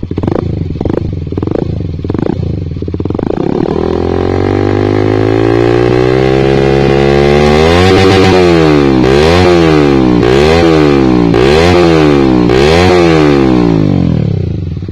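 A motorcycle fitted with a Proliner TR1 long carbon exhaust, run without its dB killer, idles with a few sharp blips, then revs up loudly and rises in pitch before a series of rhythmic throttle blips, close and alone.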